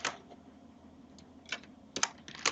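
Quiet typing on a computer keyboard, a few scattered key clicks followed by a short close cluster of taps near the end, with no talking.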